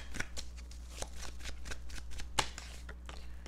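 Tarot cards shuffled by hand close up: a run of quick, crisp riffling snaps and flicks in an uneven rhythm over a low steady hum.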